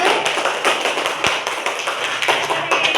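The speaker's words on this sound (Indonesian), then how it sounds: "Beri tepuk tangan kepada kelompok 1" Students in a classroom applaud a group, a brisk, continuous patter of many hands clapping, fairly close and steady with no speech over it.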